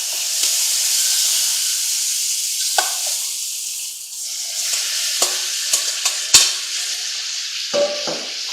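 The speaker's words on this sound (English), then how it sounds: "So we've got us a medium pan, heating up over a medium-high heat. And to this we're going to add in our shrimp." Shrimp sizzle in a medium pan over medium-high heat for spicy shrimp spaghetti, with a loud, steady hissing fizz up close and scattered pops and utensil clicks toward the end.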